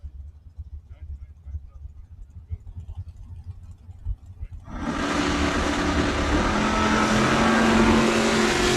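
Drag racing cars, including a 78 Buick Regal and a Camaro, launch down the strip at a Northwest Independence shootout after a quieter stretch of crowd and distant engine noise, then a loud, sustained roar of engines accelerating away.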